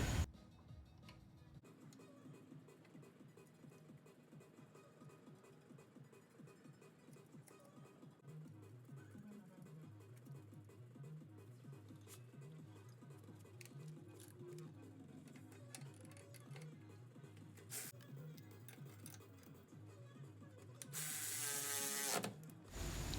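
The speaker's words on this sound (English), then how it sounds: "Cinch up the 4 bolts with a backup wrench and a ratchet." A ratchet paired with a backup wrench tightens the upper control arm bolts on a 1966 Chevrolet C10 during a brake install, producing a long run of rapid, regular clicking close by, ending in a brief louder burst.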